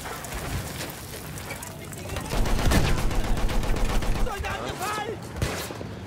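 Machine gun fire in the video game Battlefield 1, a dense rattling burst of rapid shots swelling loud mid-clip over battlefield rumble and noise, with faint voices in the mix.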